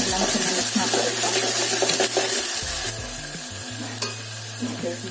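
Spiced mixture stirred in a frying pan, a steady close sizzle with scraping spoon strokes against the metal running throughout, at times over a faint tap-water hiss.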